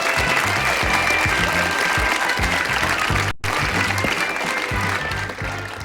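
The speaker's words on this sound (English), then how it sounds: "That's enough for the music and the applause" Studio audience on a TV game show, Graham Kennedy's Blankety Blanks, clapping loudly and continuously over a thumping music beat, with a brief cut near the middle before the applause resumes.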